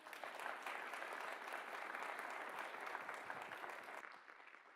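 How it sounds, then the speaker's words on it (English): Audience applause after a morning session, a dense sustained round of clapping from a room full of people that stays loud throughout and begins tapering off near the end. "Let's give you a round of applause."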